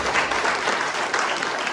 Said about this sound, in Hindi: तालियां सर के लिए।